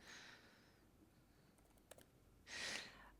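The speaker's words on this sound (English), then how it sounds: "typing is hard if someone's looking" Typing on a computer keyboard during a live coding demo: quiet, sparse key clicks in a near-silent room, with a brief soft breathy burst near the end and no talking.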